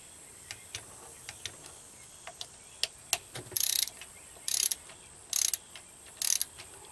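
A 3/8 bolt on a Johnson 15 HP outboard is tightened with a torque wrench, giving a series of faint, sharp ratchet clicks that become a few longer rasping bursts, close by and quiet with no talk.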